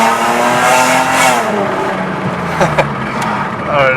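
A 2001-2005 Lexus IS300 fitted with catless headers and a downpipe revs loudly and close, its raspy exhaust note rising and falling continuously without anyone speaking.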